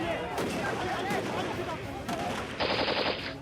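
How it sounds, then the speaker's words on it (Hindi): Rapid gunfire crackles in bursts amid the 2008 Mumbai terror attack, with sharp cracks layered under a narrating voice and a louder noisy blast near the end. "गोलियों की तड़तड़ाहट और ग्रेनेड के धमाके।"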